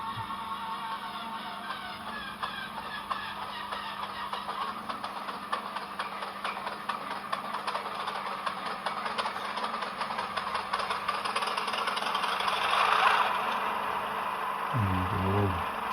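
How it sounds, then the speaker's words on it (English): A Hornby TT120 Class 37 model locomotive's sound decoder plays a diesel engine start, a steady rattling, chugging idle that builds gradually and grows louder near the end, with a low tone entering at the close. "I'm going to actually just try the engine start."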